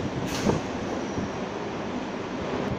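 A local train arriving at Belur Math station, a steady broad rumble and roar of wheels and cars, loud and continuous with no voices.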